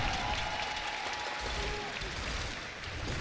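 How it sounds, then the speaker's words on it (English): Esports crowd at BlizzCon cheering and applauding during the Heroes of the Storm HGC 2018 Finals, a dense steady roar of claps and voices filling the hall throughout. "Let's get one more cheer for them."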